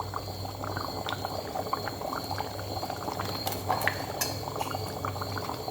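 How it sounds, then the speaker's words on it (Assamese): Elephant foot yam and fish curry boiling in a pot, a steady close bubbling and simmering with dense popping throughout and no talking. "আপোনালোকে দেখিছে কি সুন্দৰকৈ ধুনীয়াকৈ উতল আহি আছে"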